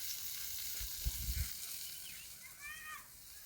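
Moringa leaves cook in a pan for egg bhurji, giving a soft, steady sizzle, faint and close, with a few low stirring bumps partway through and no talking.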